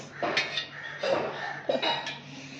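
Spoon stirring nannari drink with sugar and lemon in a glass or vessel, producing a few clinking, scraping strokes at close range, clustered in bursts over a low steady background hum.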